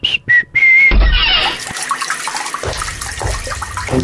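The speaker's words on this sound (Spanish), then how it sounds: "Una llave abierta consume hasta 12 litros de agua por minuto." Water runs from an open tap in a loud, steady rush that follows a brief whistling tone and shifts in level partway through.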